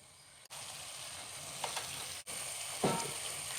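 Spices sautéing with salt and turmeric in a pan, sizzling steadily with soft stirring scrapes and a couple of brief louder clatters, no voices.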